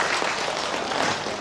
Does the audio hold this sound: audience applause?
yes